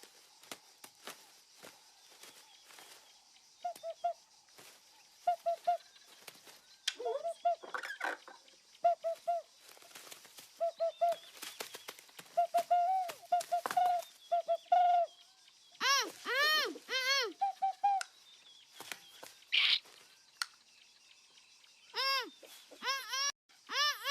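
A person's voice imitates owl hoots, giving a run of short, repeated hooting calls that grow louder and more warbling toward the end, with faint shuffling footsteps between them.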